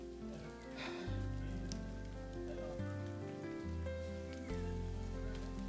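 Rain falls steadily on a dense forest trail in the Sahyadri hills near Bhimashankar, a constant close patter of drops on leaves and ground with no voices.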